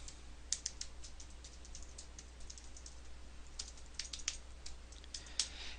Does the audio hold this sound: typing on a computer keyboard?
yes